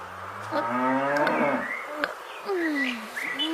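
A cow on a farm moos loudly in a children's cartoon, a long drawn-out low call followed by a second rising moo, close and clear with no speech over it.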